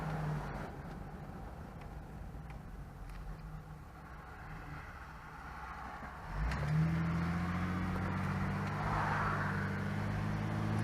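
A car pulls in third gear after a new gear installation, its engine droning steadily before rising louder and firmer around the middle as it gains power, continuous and close throughout.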